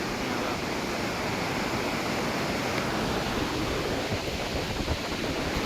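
The river at Devprayag at night, a broad, steady rush of flowing water that is continuous and moderately loud with no distinct events and no one talking.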